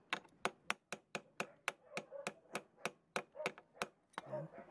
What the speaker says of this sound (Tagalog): konting pukpok na lang yan